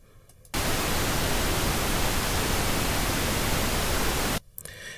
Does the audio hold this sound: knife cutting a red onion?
no